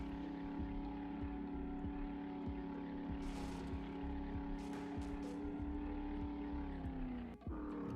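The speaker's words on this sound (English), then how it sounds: "the 4x4 definitely sounds better than the motorbike" A 4x4 vehicle engine droning steadily while driving in the survival game 7 Days to Die, a constant humming motor tone with brief rattling bursts and a short dip near the end, no talk.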